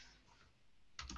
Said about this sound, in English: Let me type that one in.